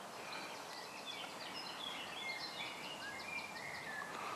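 Faint birdsong drifts over a quiet outdoor hush at the Air Forces Memorial in Runnymede, several small chirps and whistles scattered across the background, no voices.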